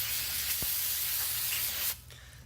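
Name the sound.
spraying brake cleaner on new brake rotors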